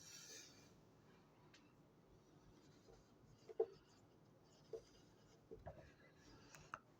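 Faint, sparse scratches and taps of a pen or chalk writing on a board in a physics lecture, a few short strokes spread over quiet room tone with no talking.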